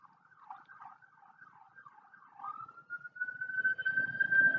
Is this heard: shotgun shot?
no